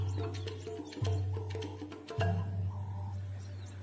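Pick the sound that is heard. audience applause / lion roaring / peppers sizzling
lion roaring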